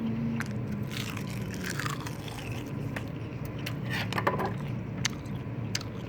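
Sharp crisp crunches and bites of crispy dried seaweed sound close up, scattered irregularly over a steady background murmur of clinking dishes.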